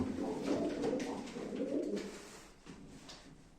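Pigeons at a live pigeon auction give soft, low repeated coos from close by, overlapping in a gentle murmur with a faint background hum.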